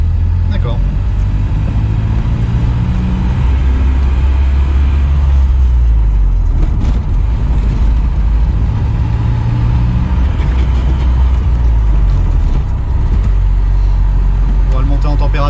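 A Secma F16 Turbo GT car driving calmly out of town, its engine a steady low rumble with rising and falling gear changes, continuous and close, heard from inside with road noise.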